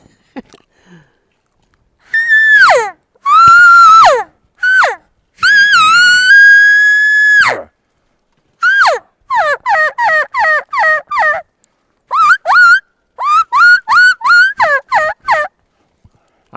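A person whistles a turkey lost call, imitating a wild turkey: loud, close, repeated series of sharp rising and falling yelps in rhythmic bursts separated by short pauses, with no talk.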